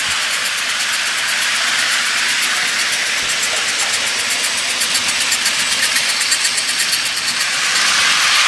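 Model trains circle a Christmas tree: a continuous loud hiss of steam-engine sound with a faint rapid chuffing pulse, running without a break for several seconds.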